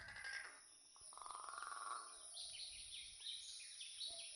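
A recorded bird call plays faintly from a phone bird app, a series of thin chirps and trills against a hiss of background noise, with no talking over it.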